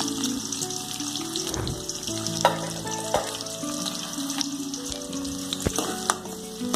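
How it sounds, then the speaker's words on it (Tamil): Onions and garlic sauté in oil in a pan for kara kulambu, a steady close sizzle with occasional stirring scrapes and clinks, no talk. "வெங்காயத்தை நல்லா வதக்கிக்கோங்க"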